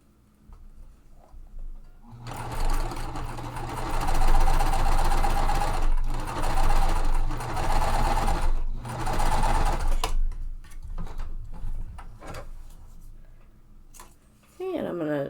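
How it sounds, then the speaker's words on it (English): A sewing machine stitches a quilt block in loud, steady bursts, pausing briefly between runs. A few faint clicks and handling sounds follow after the machine stops. "I'm going to sew the second step as well"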